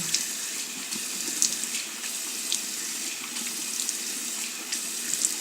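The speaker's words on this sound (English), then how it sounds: "It's just rinsing my face." Water runs steadily from a tap while someone rinses their face at a sink, a constant close splashing stream with small irregular spatters.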